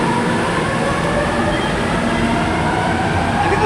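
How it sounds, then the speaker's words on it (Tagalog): MRT train at Ortigas station in Manila, a loud steady rumble of rail cars with wheel and track noise filling the whole stretch, close by and with no talk over it. "nandito na tayo ngayon sa MRT Station"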